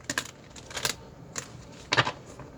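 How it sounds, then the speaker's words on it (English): Cards are shuffled in a handful of quick, crisp riffling bursts spaced apart, close by and fairly soft. "I'm just going to keep shuffling cards,"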